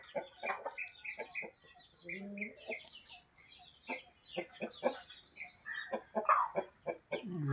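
Farm chickens cluck and chatter close by in short, irregular bursts, with a few sharper squawks and a faint voice now and then.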